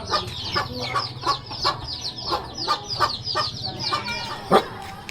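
Several chickens cluck repeatedly in short, uneven bursts close by in a Mangkong ethnic village in Laos in the evening, over a low background hum, with one louder squawk near the end.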